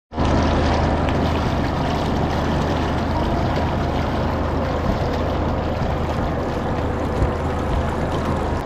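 A tourist boat on a river near Kolkata rushes along, giving a loud, constant wash of water and motor noise that begins abruptly and holds steady throughout.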